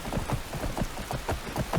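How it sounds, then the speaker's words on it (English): Steady rain falls in the video game Blades of Redemption, a continuous patter of drops with soft rhythmic low thumps, at moderate level with no talking. "The rain is less heavy."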